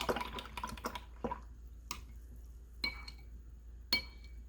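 A paintbrush swishes and taps against a water container, with a few soft clinks and drips spread out quietly with no talk.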